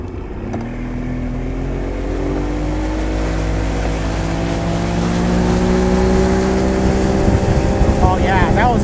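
A small motorboat engine roars and climbs in pitch as it accelerates hard at full throttle onto plane, getting louder over several seconds with wind and water noise.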